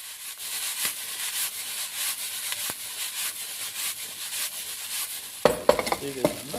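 Jowar rice with salt and turmeric stirred in a pan over gas, a continuous scraping, gritty rub of a spoon against the pan with faint sizzling, ending in a few sharper knocks.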